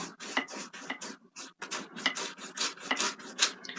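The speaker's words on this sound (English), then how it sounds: "Scrubbing it into the canvas here." A paint brush scrubs paint into a canvas in close, dry, rhythmic rasping strokes, about two or three per second, each a short scratchy burst with brief gaps between.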